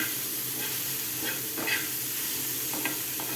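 Mushroom butter masala with fresh coriander sautéed in a pan: a continuous close sizzle with a few brief scraping stirs and spatula clicks, no talking.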